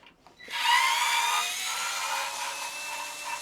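A power tool whirs as it backs out the screws of a light fitting during a kitchen renovation, a close, loud, steady high-pitched drone that starts suddenly after a few faint clicks and runs on unbroken.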